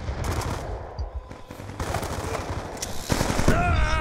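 Rapid automatic gunfire in a Black Ops 2 team deathmatch on a Yemen map, bursts of shots in quick succession with brief gaps, sharp and close, building into heavier fire near the end.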